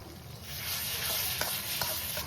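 Aromatics stir-fried in a wok before a packet of grilled fish sauce goes in, a steady loud sizzle with a few sharp scraping strokes of the spatula near the end, no voices.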